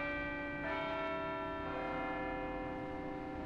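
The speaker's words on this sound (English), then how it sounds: "the tower that holds the bells that chime the hours" Tower bells of Grace Cathedral ring out with two resonant strikes about a second apart, the rich ringing tones lingering and overlapping at moderate distance.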